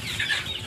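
Chickens cluck near and fairly steadily while being fed a mix of coconut pulp, a little commercial feed and water, with faint wing movement possible in the background.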